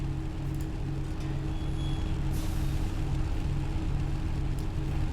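A truck idles with a low engine rumble in Farming Simulator 19, and a sharp hiss of air brakes releases briefly midway, alone without talk.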